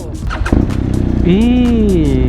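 A Kawasaki Z1000 motorcycle engine catches after a few cranking pulses, then rumbles and swells as it revs up and down, loud and close by.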